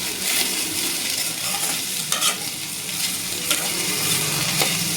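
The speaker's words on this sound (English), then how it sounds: "Now fry again. See, mix well so that it will cook." Lady's finger (okra) fries in a little oil in a pan with a constant, close hiss, as a spatula stirs and mixes it, giving occasional sharper scrapes and clinks over the sizzle.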